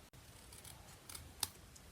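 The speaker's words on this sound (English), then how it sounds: "So you take your scissors and just trim off that top part." Scissors trim the top section off a punched paper heart for a scratch-and-sniff strawberry tin, giving a few soft snips and one sharper cut near the end, close by with no talk.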